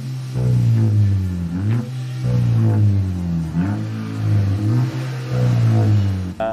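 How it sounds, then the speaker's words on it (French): A Volkswagen GTI with a full exhaust and no resonator or muffler revs hard and close, its loud, raspy engine note rising and falling through several blips with brief dips between them. "C'est l'échappement complet, sans résonateur ni silencieux."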